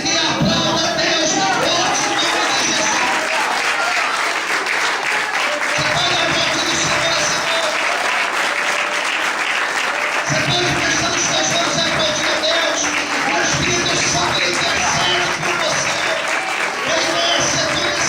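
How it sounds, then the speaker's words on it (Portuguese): A church congregation applauds continuously and loudly, dense clapping filling the whole stretch as a preacher's amplified voice carries over it in bursts. "levanta a mão para o céu, glorifique e aplauda a Deus"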